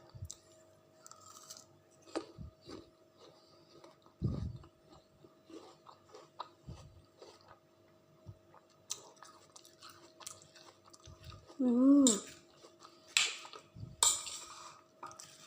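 Soft, intermittent chewing and biting of spicy apples at home, quiet crunches spread out with a louder bite near the end and faint handling noises between.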